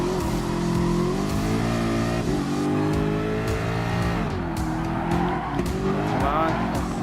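Racing game engines from Gran Turismo Sport, Group 3 GT cars including a Citroen, a Ferrari and a Ford GT LM Spec II, roar steadily with rising and falling revs and brief tire squeals throughout, with a voice talking over them.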